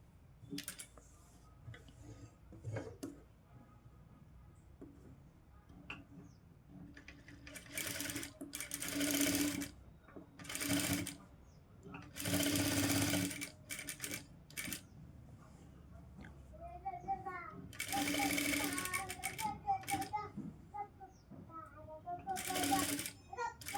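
A sewing machine stitches the front neck of a golden blouse in several short, loud runs of rapid stitching, with someone talking in the pauses between bursts.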